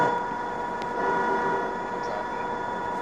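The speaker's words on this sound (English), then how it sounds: "Glasgow subway trains, these are meant to represent old ones, is loud as hell!" A Glasgow subway train rumbles along with a steady loud drone and faint metallic whine, close and continuous without speech.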